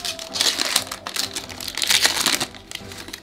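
A Pokémon card from a Chilling Reign booster pack slides into a plastic sleeve with close, continuous crinkling and rustling of thin plastic, swelling twice over a few seconds, with no talk.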